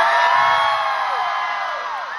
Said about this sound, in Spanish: quiero pedir un fuerte aplauso para Tini